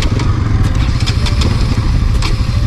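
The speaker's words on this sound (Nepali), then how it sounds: "म चाहिँ यहाँ दाइको BS7 चलाउँदैछु" A Bajaj Pulsar NS200 motorcycle engine drones steadily while being ridden, a continuous loud mid-pitched exhaust note with wind rush and no pauses.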